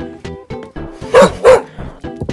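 In a cops-versus-robbers video game, a dog lets out two loud, close barks in quick succession, with softer clicks and game sounds before and after.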